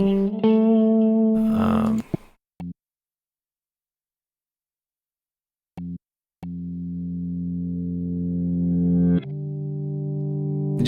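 A distorted, buzzy synthetic tone sample played in reverse, swelling in and cutting off in chunks, with short silent gaps between sections.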